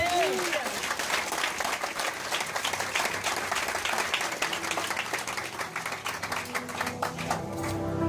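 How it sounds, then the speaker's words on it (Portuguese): A church congregation claps in praise during an Assemblies of God worship service in Lisbon, steady dense hand clapping filling the room throughout, with a few voices calling out faintly beneath it. "E a igreja de Cristo glorifica o nome de Jesus Cristo com as palmas."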